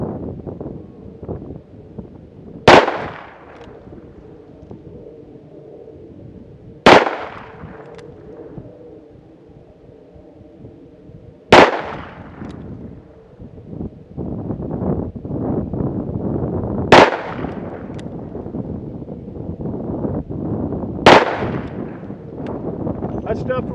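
Five sharp, loud revolver shots from a Ruger SP101 firing .357 Magnum 125-grain rounds outdoors, spaced roughly four seconds apart, each with a quick decaying report over steady wind noise and a faint background hum.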